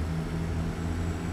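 A Detroit Diesel Series 60 truck engine in a video game drones at a steady low idle, a deep continuous rumble with a constant hum.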